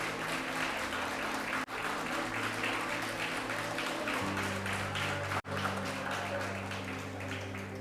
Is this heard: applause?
yes